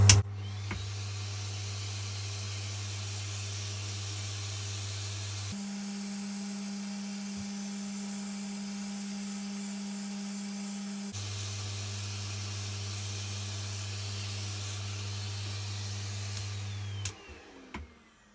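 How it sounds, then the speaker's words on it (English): A dust extractor in a wood turning workshop runs as a steady, loud droning hum with a hiss, shifting pitch partway through, then winding down at the end, with no talking. "I might turn the dust extractor on for this."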